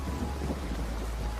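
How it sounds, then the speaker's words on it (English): Steady rain with a low rolling rumble of thunder underneath, a soft continuous storm bed without voices, used as a sound effect for a stormy night. "Tonight, as the storm intensified, Eleanor's unease grew."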